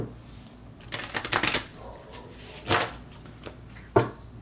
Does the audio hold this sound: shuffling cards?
yes